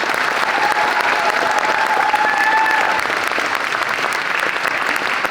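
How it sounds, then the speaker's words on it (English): Dense, loud applause from a large crowd at a Budapest Comic Con panel, a continuous wash of clapping that holds steady throughout with faint cheers mixed in. "A huge round of applause to her performance"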